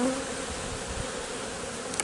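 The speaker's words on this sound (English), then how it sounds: "There's a lot of bees around, but they're not bouncing off me." Honey bees swarm around an opened hive during a March bee yard inspection, a dense continuous buzz close by with no voices.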